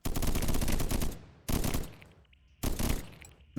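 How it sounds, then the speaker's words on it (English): Shotguns fire in a swarm-fighting video game in three loud, dense bursts of rapid blasts, each cut off abruptly and followed by a brief decaying tail, with no talking. "the regular shotguns are doing a pretty good job, too"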